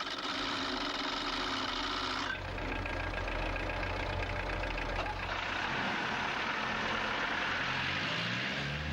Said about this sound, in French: Au banc d'essai, chaque moteur sera mis en marche et réglé.